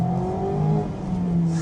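A Mazda MX-5 sports car engine hums at steady revs, tone sliding slightly as it drives, a smooth close drone with no talk over it.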